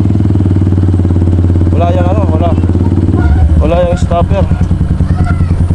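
A motorcycle engine runs loud and steady close up as the bike is ridden, a continuous low throbbing drone, with people talking over it partway through.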